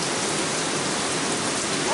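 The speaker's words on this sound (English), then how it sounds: "Listen to that rain." Heavy downpour drumming steadily on a roof, a dense, loud, continuous wash of rain with no breaks.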